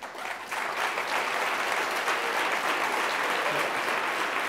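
Sustained audience applause filling a hall at the close of a debate on homeopathy, steady and dense throughout with no speech over it.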